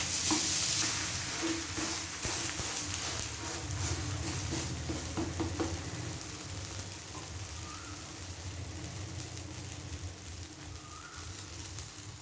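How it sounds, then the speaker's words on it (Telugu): Green gram pesarattu batter sizzling steadily on a hot pan, a continuous close frying hiss with occasional stirring or scraping clicks, no talking. "పెనం బాగా వేడెక్కిన తర్వాత మనం అట్టు వేస్తాం కదా"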